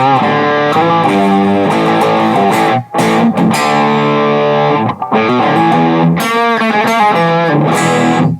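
An electric guitar played through a NUX Cerberus multi-effects pedal gives a loud, heavily distorted rock tone. Sustained chords and riffs ring out with brief gaps between phrases, and no voices are heard.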